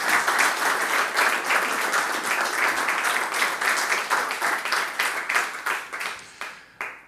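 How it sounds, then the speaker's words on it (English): Audience applause following a medical presentation on heart rhythm and digital self-monitoring, steady dense clapping that carries on for several seconds before thinning out and fading at the end. "So, round of applause, please."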